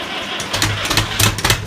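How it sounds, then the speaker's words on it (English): Fordzilla, a diesel engine fitted with a new injection pump, cranks and catches with loud, rough bursts that settle into a pulsing mid-pitched run, heard up close with no talking. "how Fordzilla starts with its new injection pump"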